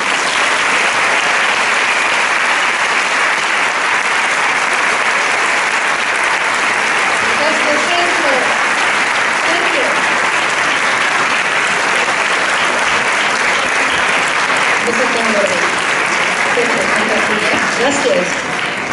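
An audience at the 20th anniversary concert of the Coral L'Horta choir applauds loudly and continuously for nearly twenty seconds, a thick, even wash of clapping with faint voices beneath it.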